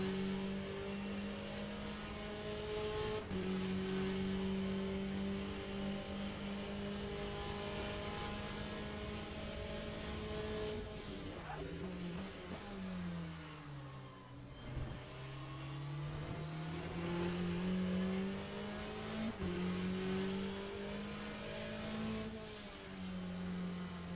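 Race car engines in Le Mans Ultimate rev and accelerate loudly and steadily, with rising and falling gear-shift pitch sweeps as cars push past a Ferrari, sustained close engine drone throughout.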